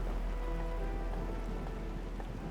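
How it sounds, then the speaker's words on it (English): Heavy rain falls steadily in the video game Arknights: Endfield, a constant dense hiss of downpour with a low rumble underneath and no pauses. "It's raining harder. I can't hear anything except for the rain."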